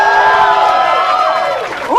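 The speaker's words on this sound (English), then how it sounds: "I would like to hear another very enthusiastic round of applause for Canada's own MC Snacks." A live audience at a comedy show in Columbus, Ohio cheers loudly, with shouts and whoops rising over a crowd roar for two seconds.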